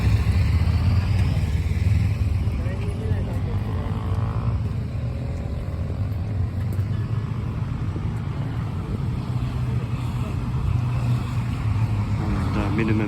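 Motorcycles passing along a street in Japan give a steady, continuous engine roar and rumble of traffic, rising and falling slightly as bikes go by, with no talk over it.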